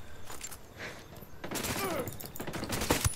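Pistol fire from a 5.7 handgun in Ghost Recon Wildlands: several sharp gunshots in quick succession, fairly close and loud, over game ambience, with no voice over the shots.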